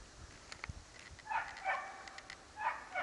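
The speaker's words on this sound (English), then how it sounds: "It's an annoying dog behind me barking." A dog barks a few times in the distance, short bursts separated by pauses, against quiet outdoor background noise.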